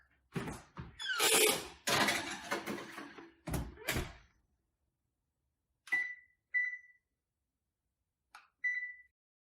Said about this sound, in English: Okay, so our timer just went off.